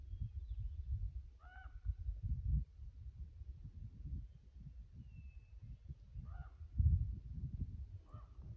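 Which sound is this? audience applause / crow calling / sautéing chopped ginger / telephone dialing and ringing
crow calling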